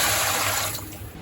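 About one and a half kilograms of water rushes into a cooking pot already holding oil, a steady, loud splashing pour that gradually softens as it fills, with no talking over it.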